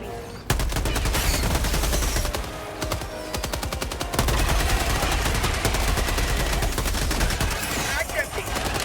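Sustained automatic gunfire in a video game as a full magazine is dumped, loud rapid bursts packed together with a brief pause, then continuing, with voices talking faintly underneath.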